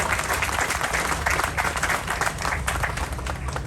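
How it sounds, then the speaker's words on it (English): Audience applause at the Metro K Line opening day ceremony, a steady, full burst of clapping from a crowd, loud and continuous across the few seconds with no talk over it. "Give them a round of applause, please."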